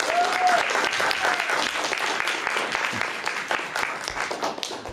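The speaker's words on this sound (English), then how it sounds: "Round of applause for Candace." Audience applause at a panel on video game prototypes during the PRGE 2022 retro gaming expo, a full room clapping steadily for several seconds under a faint announcer's voice.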